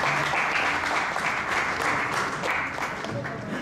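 Steady applause from an audience at an arts and architecture talk session welcoming speaker ST Sunardi, dense and continuous throughout with a faint murmur of voices underneath.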